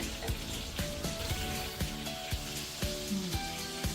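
Fish pieces frying in a pan of oil, a steady close sizzle punctuated by regular clinks and taps of a utensil against the pan.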